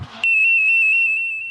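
A personal alarm cuts in abruptly with a shrill, piercing steady tone that holds loud and unbroken for over a second, with no voices.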